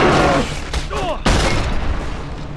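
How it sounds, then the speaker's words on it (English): Revolver gunshots from the Resistance 3 video game, several sharp booms including a loud blast partway through, amid game effects and a speaking voice. "start pumping revolver rounds into each one of them that you can"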